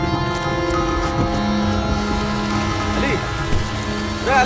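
Steady rain falls without a break, a dense even hiss with faint clicks and rattles mixed in, and a voice briefly heard in the background.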